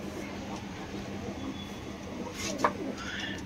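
A single soft coo from a Teddy pigeon of Oman bloodline sounds briefly against a steady background hum, with no one speaking.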